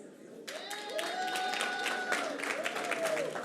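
An awards ceremony audience applauds in a moderate, steady patter, with a voice speaking over the clapping.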